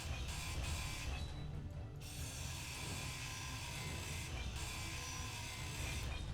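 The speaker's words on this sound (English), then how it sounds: "Now let's just drill from the bottom." Ship-mounted drills grinding through rock in the game Space Engineers, a steady mechanical ratcheting churn with low rumble that runs continuously at an even level throughout.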